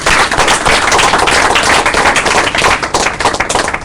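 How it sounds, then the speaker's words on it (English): An audience claps after a speech at an event, a loud, dense burst of many hands that keeps going at full strength throughout. "Let's have another round of applause for the"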